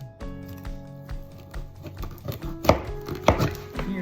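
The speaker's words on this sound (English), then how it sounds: "I just cut this through with my chef's knife" A chef's knife chopping through frozen bones for homemade broth, several sharp hard cuts on a board, with a couple of louder thuds near the end.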